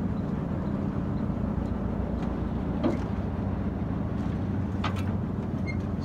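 A boat engine runs steadily on the Mekong river in Laos, a loud, continuous low drone with faint clicks and knocks riding on top and no voices.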